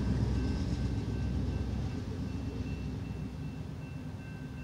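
A BNSF C44-9 locomotive train rumbles past at a distance, a steady low roar with faint tonal whines, slowly fading.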